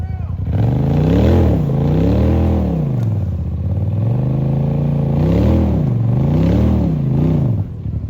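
A side-by-side off-road vehicle climbs a hill at Wellsville, Ohio, its engine revving hard and loud in rising and falling surges, with close engine noise throughout.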